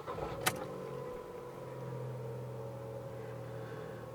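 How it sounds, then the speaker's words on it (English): A Ford Fiesta engine starts up indoors or close by: a brief sharp click, then a steady low idle hum that settles and holds, fairly quiet overall. "starting the car up"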